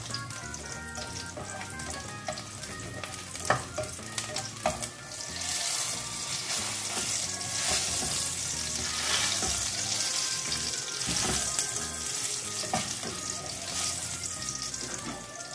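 Garlic frying in hot oil in a pan, a loud dense crackling sizzle that swells and stays strong throughout, with occasional clinks and stirring sounds up close.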